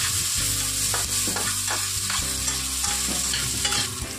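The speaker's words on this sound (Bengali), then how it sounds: "তো পেঁয়াজটা এই যে মোটামুটি মিডিয়াম ভাজা কমপ্লিট হয়ে গেছে" Chopped onions fry in a pan with whole garam masala, giving a loud, continuous sizzle under steady stirring. The spatula scrapes and clatters repeatedly at close range, and no voices are heard.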